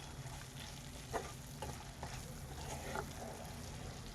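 Ridge gourd fry mixed with ground peanut powder is stirred in a pan, giving a faint, steady sizzle broken by several soft scraping strokes of the spoon.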